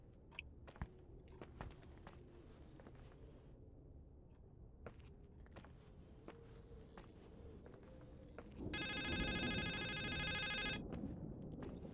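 Phone ringing in the video game The Suicide of Rachel Foster: a quiet room with scattered faint footsteps and clicks, then an electronic ringtone bursts in with a rapid trilling pulse, ringing steadily for about two seconds near the end.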